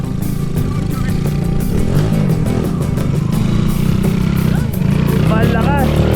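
A motorcycle engine revs loudly and steadily, held at high revs with slight surges, close by, with people talking over it.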